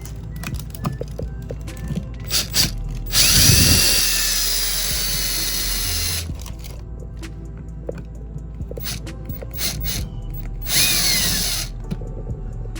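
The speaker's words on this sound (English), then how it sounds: "My holes are a little covered by the plastic, so I'm gonna go ahead and just pre-drill slightly." Power drill pre-drilling holes through plastic for a junction box faceplate, two short whining bursts several seconds apart, with light handling clicks and knocks around them.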